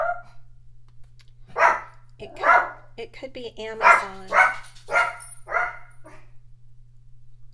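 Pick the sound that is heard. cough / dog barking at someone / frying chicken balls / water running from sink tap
dog barking at someone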